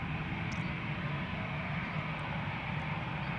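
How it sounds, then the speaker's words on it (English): An EasyJet Airbus A320neo departs Amsterdam Schiphol for Nice, a steady low jet engine roar heard from a distance without talk. "It's an A320neo, a year old, first flight April 2024, and it is going."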